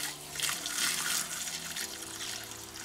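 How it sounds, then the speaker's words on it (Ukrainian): Water gushes from the drain pipe of a backyard swimming pool filter set to backwash, a steady, close rushing flow with no talking. "Вода з крана з ливної труби починає йти."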